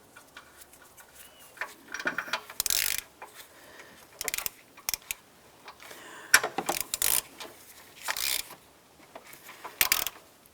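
A ratchet clicks in quick bursts while an upstream oxygen sensor is tightened on a 2009-2019 Ford Flex, with crisp, close mechanical ticks in several separate runs and quiet pauses between them.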